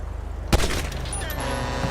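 A single sharp gunshot cracks out in first-person GTA 5, landing a headshot. It stands clear over a low, steady game background.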